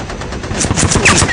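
Machine-gun spray fire sound effect for a B-17 waist gunner firing at an attacking fighter, a rapid, loud, close burst of shots.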